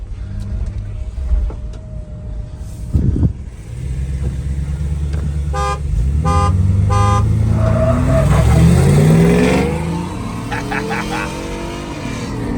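A Ford Bronco Raptor accelerates hard in a drag race against a Chevy, its engine swelling to a loud, rising roar close by, with a brief horn-like toot earlier and voices talking over the run.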